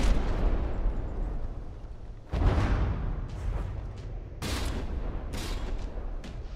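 In the From the Depths naval combat game, a ship's turret is blown off amid a barrage of explosions and gunfire: several sharp, heavy blasts with rumbling decay, some distant and some close.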